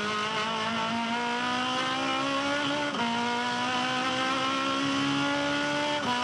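An Aussie Racing Cars race car at Winton sliding sideways through the sweeper, its engine droning loud and close at steady high revs with a brief dip in pitch midway, tires hissing underneath.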